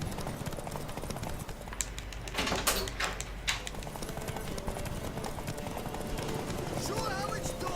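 Hooves clip-clop as a horse moves in The Witcher 3, a steady clatter under character dialogue, with a brief louder burst of clattering partway through.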